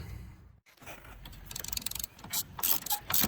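A hand ratchet clicks quickly and repeatedly as caliper bolts are loosened on a 2000–07 Mazda Tribute / Ford Escape brake job, close and fairly quiet, with metallic ticks speeding up toward the end.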